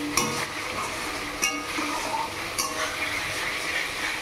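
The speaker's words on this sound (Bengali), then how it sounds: "তারপর জল ঢেলে দেবো।" Water pours into a pan of frying potatoes and spices for a Bengali fish curry, a steady close splashing gush with a few faint clinks.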